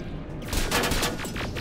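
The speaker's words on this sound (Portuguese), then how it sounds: "A torre tá atirando neles." A tower turret in the video game Terminator Resistance fires rapid bursts of gunfire, loud and close, sounding as a dense crackling fusillade.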